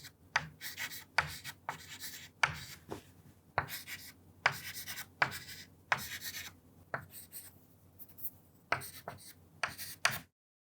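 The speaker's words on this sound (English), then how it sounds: "like this, you can keep writing." Handwriting during a lecture on Lagrange 2-D finite elements makes quick, scratchy strokes in irregular bursts separated by short pauses. The strokes sound close and fairly quiet, with no voice over them.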